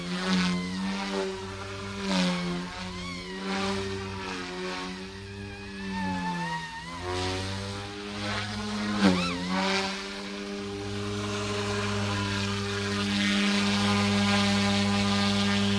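Blade Infusion 180 RC helicopter fitted with a MicroHeli 65mm three-blade tail, its head block vibrating and blades out of track, giving a steady buzzing rotor whine with shifting pitch that swells near the end.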